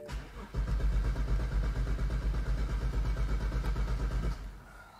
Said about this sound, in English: Cranks for a long time. So it the motor's not locked up. It actually sounds pretty healthy.